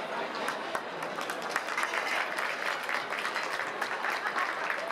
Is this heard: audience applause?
yes